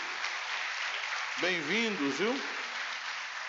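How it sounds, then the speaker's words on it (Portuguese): Church congregation applauding during a worship service, a soft, even wash of clapping beneath a voice speaking briefly in Portuguese. "Vamos aplaudir a Deus pela vida do irmão Gil."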